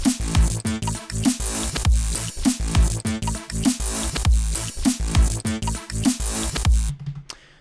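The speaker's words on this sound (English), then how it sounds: "we'll be building a Reese Bass using a couple of cool tricks" A Reese bass synthesizer built on an FM1 wavetable plays a loud, gritty, detuned bass line in a steady rhythmic pattern of repeated pulsing notes, with a short pause and tail at the end.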